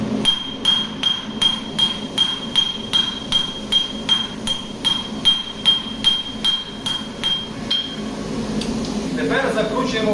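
A hammer rings on hot metal against an anvil during simple blacksmith forging, about fifteen sharp, evenly spaced bright strikes close by before the blows stop and someone talks.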